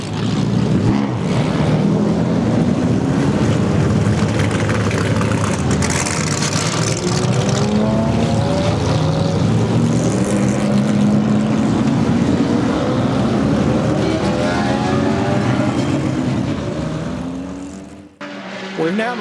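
Historic race cars howl past turn 3 during an hour-and-a-half vintage GT endurance race at Roebling Road, engines rising and falling as several cars pass close in succession, with a speaking voice over the continuous loud racing noise.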